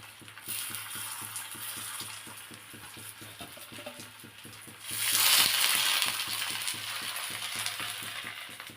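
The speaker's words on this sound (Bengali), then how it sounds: "বীজগুলো ভালোভাবে ভেজে নিচ্ছি।" Seeds fry in a little white oil on a pan and sizzle steadily, while a utensil stirs and scrapes in a rapid, regular rhythm. The frying grows briefly louder midway.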